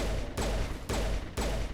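Geth weapons firing in the Mass Effect video game, three evenly spaced loud bursts of shots over a continuous roaring combat background.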